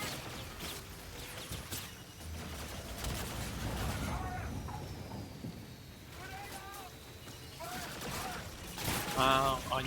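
Gunfire in the video game Call of Duty: Infinite Warfare, rumbling bursts and rattling shots spread through the stretch, partly blurred together and under a player talking.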